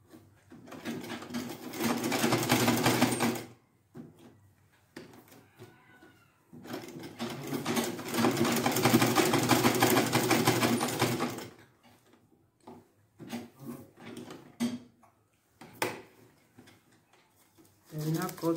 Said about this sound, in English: Sew together.